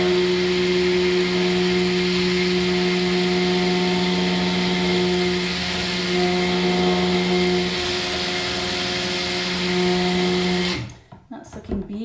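A kitchen blender whirs steadily at close range, blending a minted pea soap mixture in one long, loud, continuous run before it stops abruptly near the end.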